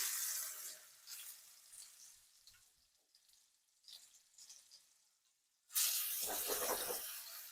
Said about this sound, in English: we're gonna start frying up this chicken